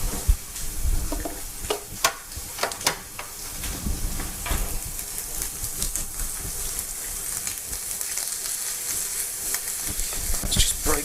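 Steady sizzling of pesto chicken being stirred in a hot frying pan, with spoon scrapes and clicks against the pan throughout, continuous and fairly close.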